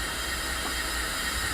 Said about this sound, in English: Apply the brakes properly now. I forget I'm driving a steam train and they take a little while to actually apply.